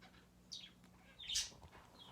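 Pet birds chirp indoors in a quiet apartment, two or three faint, brief tweets with a slightly louder call in the middle, over low room hum.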